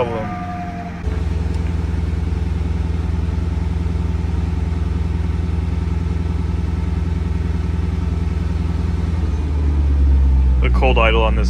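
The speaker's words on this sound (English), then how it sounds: "The cold idle on this thing sounds so good." A BMW F80 M3 starts after sitting for a month, its engine catching with a sharp rise and then settling into a steady, loud, rumbling cold idle that holds close by, with a revving swell near the end.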